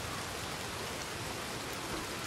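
Steady rain falls in the open-world game Red Dead Redemption 2, a continuous, even hiss of downpour lasting the whole moment with no talking over it.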